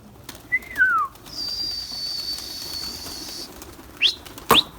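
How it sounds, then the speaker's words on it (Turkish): Pigeons kept in a loft fly about: a short burst of wing flapping, then sharp flaps and snaps close by, with a faint bird whistle and a steady high electronic whine behind. "Benim kuşlar uçuyor bu arada."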